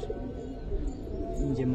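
A Giribaz pigeon gives a brief, soft, throaty coo nearby. The call is low and murmuring, with faint background voices.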